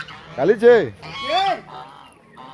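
Goose honking loudly at close range on a farm with chickens and ducks, a few rising-falling honks in quick succession, with a person speaking between them.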